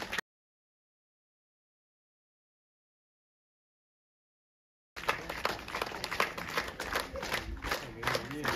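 An audience claps loudly and continuously at the inauguration of a village organisation office on Kolma Island, a dense burst of applause that starts abruptly after a long silence.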